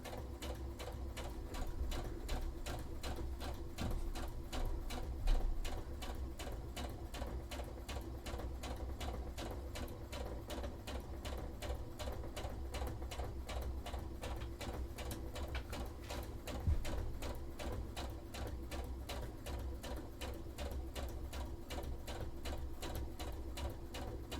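Steady, continuous whir of a sewing machine stitching a cosplay shirt for an Artillery Witch costume, running without pause at an even rhythm with a couple of small knocks along the way, no talking.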